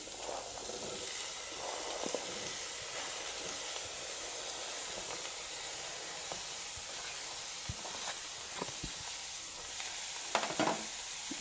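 A continuous sizzle and hiss of onions and cauliflower frying in a pan, with occasional scrapes and clicks of stirring.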